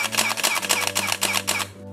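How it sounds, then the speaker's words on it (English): A Canon EOS 1DS Mark II fires a rapid burst of loud, crisp shutter clicks, about five frames per second, close to the microphone and with no talk over them. "the shutter is pretty loud"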